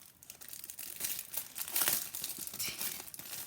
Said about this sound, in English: Get rid of the crinkles.